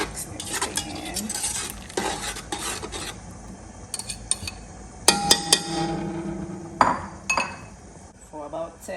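A spoon stirs tomato puree with ginger, garlic and hot pepper in a pot, clinking and scraping against the metal in irregular bursts, with a faint sizzle and a voice talking intermittently.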